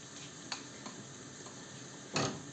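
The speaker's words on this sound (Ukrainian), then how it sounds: "Отут ще цибульку підсмажую" Onions frying in a pan: a steady sizzling hiss, a couple of faint utensil taps, and a louder stirring scrape near the end. No one speaks.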